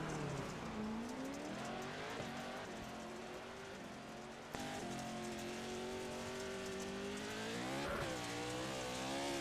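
A race car running laps at Crandon, its engine revving and rising in pitch as it accelerates, with gear shifts and a loud, close engine note throughout.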